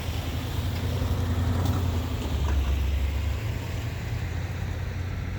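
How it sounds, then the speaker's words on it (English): Freight train locomotives begin to pull and the slack in the couplers is taken up, making a steady, loud, low mechanical rumble that runs throughout with no voices. "That's what they sound like when they start to pull. The engines start to pull and the slack in the couplers gets taken up."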